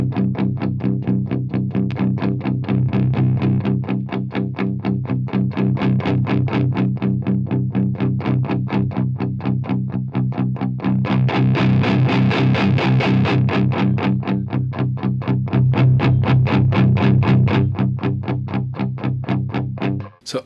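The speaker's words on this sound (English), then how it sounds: "the RIFFCHILD doesn't have a lot of sound of its own. It's really designed for pushing amps hard." Electric guitar played through a God City Instruments RIFFCHILD boost pedal on clean settings, a steady strummed, chugging rhythm with bright driven tone and sustained chords throughout, loud and close, with no talking.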